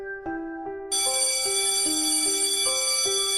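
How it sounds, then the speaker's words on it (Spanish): An electronic school bell plays a loud, steady chime of stepped tones that rise and fall in a short melody, with a bright sustained ring layered above from about a second in. No voices are heard. "A las 10 de la mañana el timbre escolar sonó."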